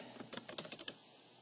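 Quiet, close typing on a computer keyboard: a quick burst of about eight crisp keystrokes over roughly one second, alone with no talk.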